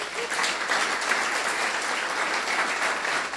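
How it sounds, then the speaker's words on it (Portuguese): Dense, sustained applause from a church audience for performers, an even wash of many hands clapping that stays loud and steady throughout. "Uma salva de palmas para esses artistas aqui"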